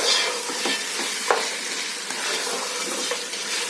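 Mutton on the bone frying in a pot for biryani, a steady broadband sizzle with occasional soft stirring scrapes and knocks, moderately close and without speech.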